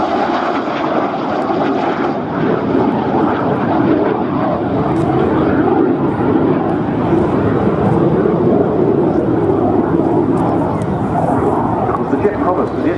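A BAC Jet Provost jet trainer in 1990 display livery roars steadily overhead at the Scampton air display, a broad loud engine rush, while a commentator talks over it.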